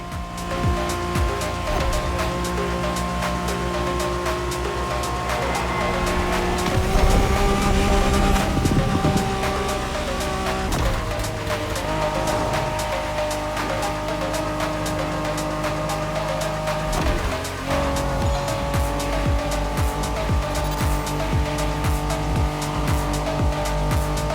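A special Honda NSX race car speeding through a racing video game: a loud, sustained engine whine that shifts pitch with gear changes, with occasional tire squeals, all layered under game music.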